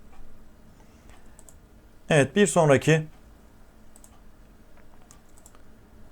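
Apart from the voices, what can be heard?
computer keyboard keys being pressed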